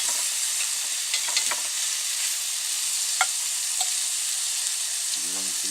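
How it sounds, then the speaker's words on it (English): Meat for an egg roll in a bowl is pressed and mashed down in a sizzling pan in a van kitchen, with a constant loud hiss and a few scraping clicks. A short voice comes in at the end. "Gonna mash it down so it'll get cooked better"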